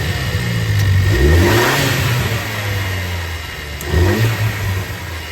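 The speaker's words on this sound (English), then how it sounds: "what you just heard was just 3 revs from with the factory blow-off valve" A 2024 Ford Ranger XLT 4x4 engine with its factory blow-off valve revs up three times outdoors, each loud rising vroom falling back to idle, with no clear release hiss after the revs.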